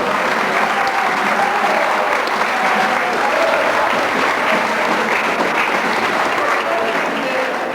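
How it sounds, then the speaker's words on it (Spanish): Dense, steady applause from a crowd at a cultural centre event in Lima, holding loud and unbroken throughout without any speech. "Vamos a lograr un fuerte aplauso."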